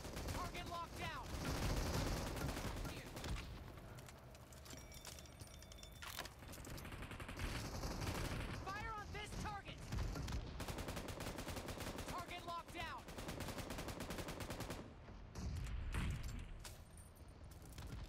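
Rapid automatic gunfire from a PUBG Mobile vehicle-to-vehicle fight, bursts of shots repeating across the whole stretch alongside engine rumble and game effects, with a voice speaking over it now and then.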